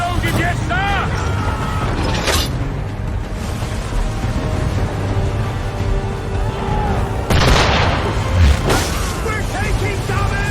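Ship swivel guns fire at an enemy ship in a naval battle, a few sharp booms ringing out over constant creaking and wind noise, while crew members shout.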